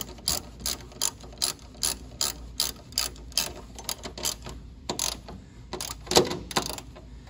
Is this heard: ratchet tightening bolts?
yes